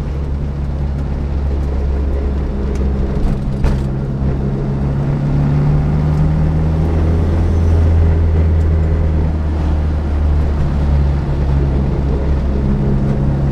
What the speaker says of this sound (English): Cruising in third gear, 30 miles per hour.